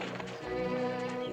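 A horse at a funeral procession gives a short whinny with clip-clop hooves, close and fairly clear over a busy background.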